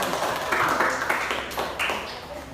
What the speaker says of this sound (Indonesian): tepuk tangan untuk kelompok kakak